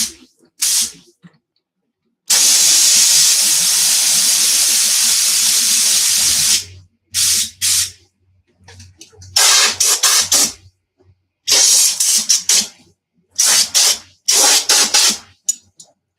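Compressed air from an air compressor line at a workbench set around 30 psi, a loud steady hiss lasting several seconds followed by shorter on-off bursts of blowing air.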